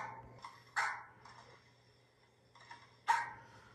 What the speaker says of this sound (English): are you ready to see this puppy?